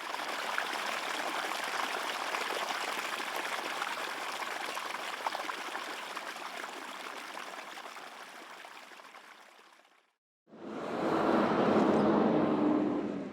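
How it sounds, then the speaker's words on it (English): Floodwater trickling through a home like a brook gives a steady, broad rushing wash that fades gradually, breaks off briefly, then returns louder and closer with no talking. "you can hear it trickling like a brook"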